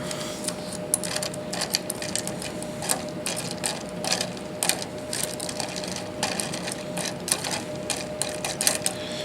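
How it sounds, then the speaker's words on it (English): Salty ice-water solution being stirred, giving a steady run of close, rattling, scraping clinks as the ice knocks about in the container, with no talking. "I'm going to mix it up a bit."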